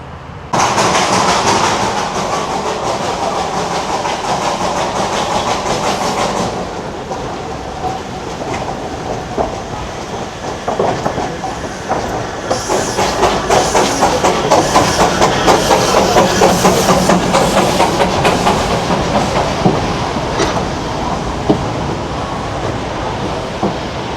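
A coal-powered toy train at Ghum station in Darjeeling rumbles steadily with rolling wheel clatter and engine noise, loud and continuous, with brighter hissing and clanking joining partway through.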